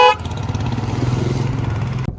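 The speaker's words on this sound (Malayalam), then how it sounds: "ഈ ഹോൺ ജസ്റ്റ് ഒന്ന് കളിപ്പിച്ചു തരാം" A single held horn blast from a 2015 Mercedes GLA sounds loud and close for about two seconds over a low engine hum, then cuts off abruptly.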